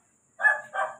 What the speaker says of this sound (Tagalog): Sumunod na naman yung aso.